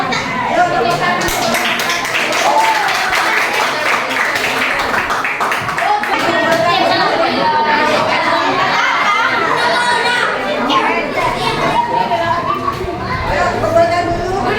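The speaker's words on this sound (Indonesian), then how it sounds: "Ayo tepuk tangan" Students in an Indonesian classroom breaking into applause for a group, lively clapping mixed with children's chatter and cheering in a busy room.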